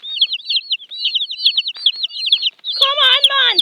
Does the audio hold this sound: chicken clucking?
yes